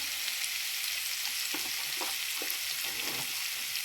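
Ginger garlic paste frying in a pan for chicken kofta, a steady broadband sizzle with a few soft stirring scrapes midway, close and continuous with no voices.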